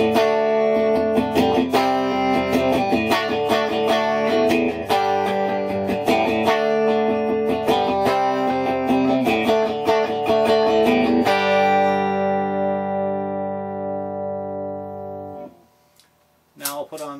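Clean electric guitar, without distortion, strums a run of ringing open chords in a steady rhythm, the last chord left to sustain and fade, followed by a faint click.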